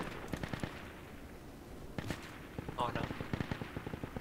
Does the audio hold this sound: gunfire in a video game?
yes